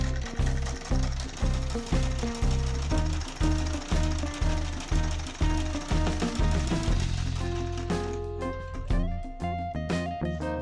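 A sewing machine stitches cloth along the crotch seam of a garment, its needle running in a fast steady rhythm of loud repeated bursts that slows and changes toward the end.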